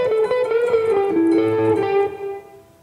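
Electric guitar playing a short blues solo phrase, a run of single sustained notes with slight bends and effects, heard alone and fading at the end.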